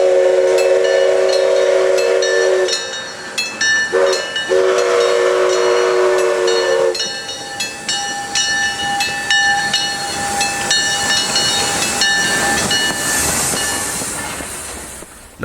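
A steam whistle sounds in long steady blasts while an ailing steam locomotive, number 3, chuffs and clanks easing up the line on a heritage railway, its rhythmic exhaust and rolling rail noise continuing throughout.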